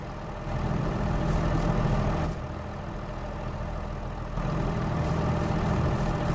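A tractor engine idles in the video game Farming Simulator 22 with a steady, heavy low rumble that is loud and close, dipping briefly in level midway before returning to full strength, with no talking.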